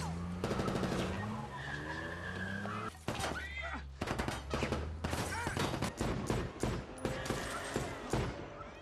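Bursts of gunfire from an ambush in a crime film about Mesrine, a man walking with his daughter coming under fire, with rapid repeated shots, clattering impacts and a car-like rumble layered over a loud, busy film soundtrack.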